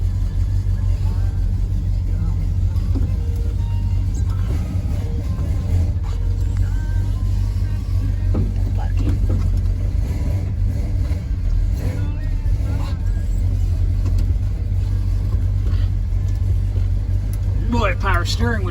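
A 1966 Ford Fairlane drives along with a steady low engine rumble and road noise heard from inside the cabin, while people occasionally talk over it.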